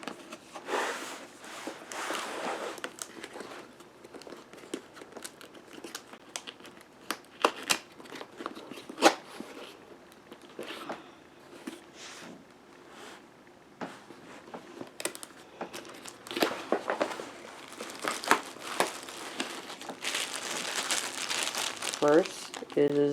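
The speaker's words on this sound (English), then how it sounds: "Okay, now to unbox." Packaging for an RCA Artemis 10-inch HD tablet crinkles and rustles during unboxing, soft handling noises coming in bursts while a person speaks now and then.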